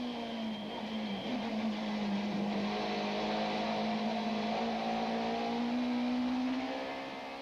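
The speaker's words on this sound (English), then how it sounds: "the cars head for the tight left-hander at Goodyear corner" Super touring race cars, including an Opel Vectra, an Audi and a Toyota Camry, race at Kyalami in 1995, their engines holding a sustained, rising drone as they run toward a tight left-hander, loud and continuous with no talk.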